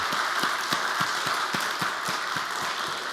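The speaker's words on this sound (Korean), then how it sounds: "함께 고생하시고 함께 수고한 모두에게 박수를 한번 보내주시면 감사하겠습니다." Congregation applause during a Sunday church service, a steady wash of many hands clapping at moderate distance with a few distinct rhythmic claps, no talking over it.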